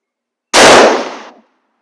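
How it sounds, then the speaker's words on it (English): A single sharp, loud rifle shot from a CZ 527 Mini Mauser, with a warming barrel, cracks up close and then decays over about a second into quiet. "Try one more of these, and then I'll shoot the other one."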